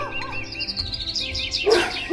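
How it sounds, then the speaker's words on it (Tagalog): Birds chirp and tweet outdoors by a balcony, a run of bright repeated calls that grows louder and busier toward the end, with no talking. "huni ng mga ibon"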